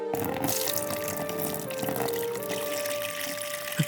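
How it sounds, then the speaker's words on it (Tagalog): Holy water pours onto a head, a soft continuous splashing trickle with a faint tonal ring underneath, close and steady, ending with a small splash. "Ibubuhos ko ang sagradong tubig sa kanyang ulo, ha?"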